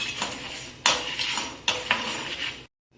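Coriander seeds dry-roast in a pan, stirred with a metal spoon that gives three sharp clanks against the pan amid a rattling scrape before falling silent.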